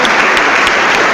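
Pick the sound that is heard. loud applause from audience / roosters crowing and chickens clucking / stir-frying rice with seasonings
loud applause from audience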